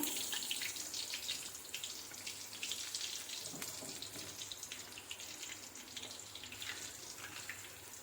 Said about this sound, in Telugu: నూనె బాగా వేడి చేసిన తర్వాత పిండిని ఇలా వేసుకొని